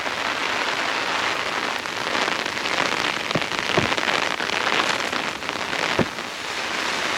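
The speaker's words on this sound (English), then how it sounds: "Man, it's raining good." Heavy rain drums steadily on a rooftop tent with a dense, even patter and a few sharper drops striking the fabric, loud and close throughout. No one speaks.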